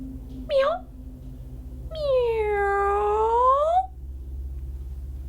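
A person imitates a cat meowing, giving a short high meow and then a longer drawn-out wailing meow, close and clear over a low steady hum.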